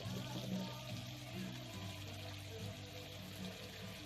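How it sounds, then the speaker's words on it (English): Water is poured back into a 36-gallon bow front planted aquarium using a gravity siphon, giving a faint, steady trickle and gurgle with a low hum underneath. "here we are putting water back in the 36-gallon bow front"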